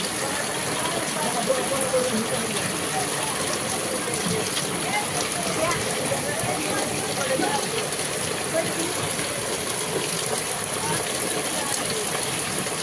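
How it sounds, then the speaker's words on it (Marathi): Steady rain pours over open farmland where buffalo wade through water and a farmer walks soaked, a dense continuous hiss filling the whole stretch without pause. "छान असा पाऊस पडायला लागला आहे."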